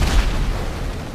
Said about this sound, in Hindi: अरे पटाखा छोड़ दिया